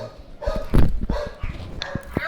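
A dog out on a passing walk barks in a short run of sharp, moderately near woofs and yips, irregularly spaced, with the loudest bark early and softer ones trailing after.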